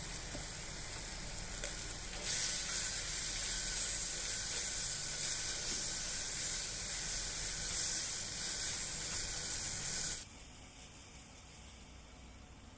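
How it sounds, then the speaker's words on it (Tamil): Tomato and onion with salt sauté in a pan for a greens stir-fry, a steady soft sizzle and hiss running throughout, with a brighter burst of frying in the middle before easing off. "இதில் சின்னதாக ஒரு தக்காளி பழம் சேர்த்துக்கலாம். கொஞ்சம் உப்பு போட்டு வதக்கி விட்டுக்கலாம்."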